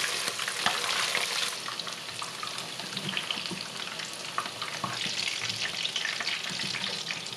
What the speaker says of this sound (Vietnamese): Rồi cứ tiếp tục chiên giống lúc nãy nha.